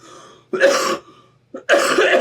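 Two loud, close coughs about a second apart, each a harsh broadband burst, with a small catch of breath before the second.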